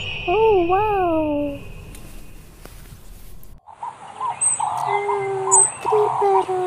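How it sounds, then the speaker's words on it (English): Colorful parrots calling, a few rising and falling warbled whistles followed by sharper repeated squawks and chirps, fairly close and clear. "three parrot, colorful parrot"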